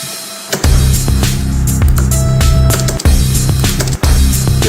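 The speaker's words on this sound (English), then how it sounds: "That was like my crash with a lot of reverb personally. Like big room, kind of splashy kind of thing." A low, heavily reverberant crash cymbal in a downtempo electronica track swells in a big, splashy room wash, striking a few times over a steady, loud bass groove.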